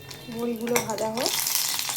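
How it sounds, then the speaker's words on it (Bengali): Bori lentil dumplings frying in hot oil, a steady sizzle with a short spoken voice over it and a brief clink. "বড়িগুলো ভাজা হোক।"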